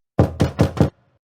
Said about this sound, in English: Then there was a loud and authoritative tap.